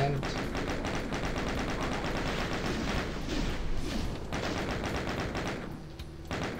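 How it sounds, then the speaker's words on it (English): A chain gun in Doom 2 fires a rapid, unbroken stream of loud shots for several seconds, easing slightly near the end. "I'm using all my chain gun bullets."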